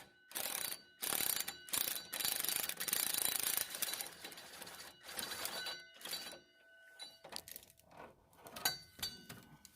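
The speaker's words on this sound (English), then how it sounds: "I'm using an adjustable wrench to hold one side of the fastener, and I'm using a 21mm socket to remove it" Ratcheting socket wrench with extensions working loose a 21mm shock absorber bolt under a Chevy Blazer, S10 or GMC Jimmy, held by an adjustable wrench; rapid clicking bursts come in several close bouts with short pauses between.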